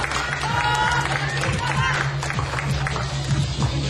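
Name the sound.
applause from the audience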